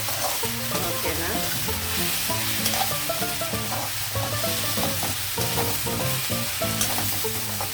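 A broad beans and tomato curry being stirred in a pan, a steady sizzle with scraping spoon strokes over a background hum, close and continuous, no voices.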